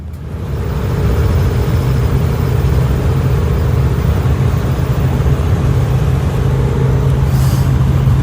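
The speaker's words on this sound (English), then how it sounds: "we're taking the motorhome back to the yard right now" A motorhome cruises down the road with a loud, steady engine drone and road roar from inside the cab, broken only by a brief hiss near the end.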